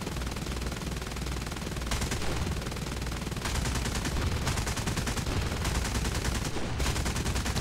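The underneath gun of a Fokker T.V Dutch bomber firing in War Thunder, sustained rapid machine-gun bursts that are loud and dense, with short gaps between longer strings of fire and no talking over them.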